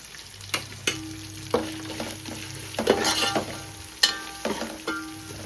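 Garam masala and coriander powder fry in a pan with a soft, steady sizzle, broken by sharp clinks and scrapes as a spoon stirs the spices, close and clear with no talking.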